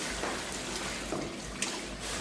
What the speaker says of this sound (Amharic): ከዛ ሩዝ የቀቀልኩበትን ዶሮ የቀቀልኩበትን ውሃ ነው የምጨምረው።